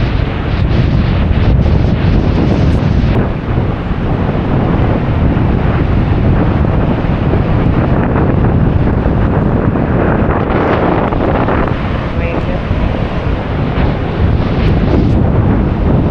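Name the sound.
strong wind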